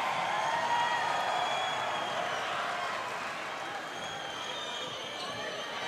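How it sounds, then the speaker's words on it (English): A large arena crowd at the 2010 Commonwealth Games netball final between New Zealand and Australia roars in sustained loud cheering after an equalising goal, with a commentator talking over the din. "the crowd go bananas"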